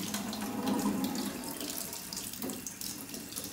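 Tap water runs in a steady, moderately loud splashing stream onto a hot glass flask in a chemistry demonstration, with no voices over it.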